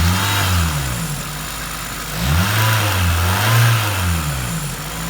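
A Toyota Celica GTS engine is revved with the throttle in bursts, its pitch rising and falling over a steady idle, close and loud with no talking.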